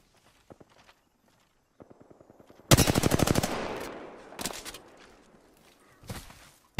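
Automatic gunfire in the Apex Legends video game: a loud, rapid burst of shots that trails into a ringing decay, followed by a few scattered single shots and lighter impacts.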